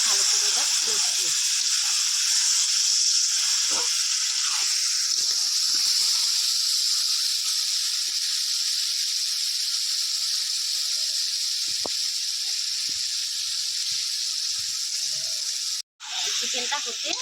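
Spice-marinated chicken pieces for biryani fry in a pot with a steady, loud hissing sizzle that lasts throughout. A brief scrape or clunk breaks in near the end.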